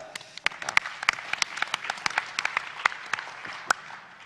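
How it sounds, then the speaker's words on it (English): An audience at the Launch Festival 2013 startup session gives a brisk round of applause as a company takes the stage, with many crisp, close claps forming a lively, even patter. "big round of applause for Flyer.io"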